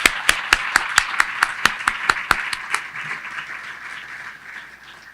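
A small audience applauding at a county address, about a dozen crisp, evenly spaced claps close by that soften into a fading patter.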